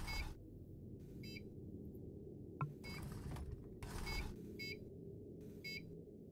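Short electronic warning beeps from a door in the sci-fi game Space Wreck, about five evenly spaced tones, faint over a low steady ambient hum.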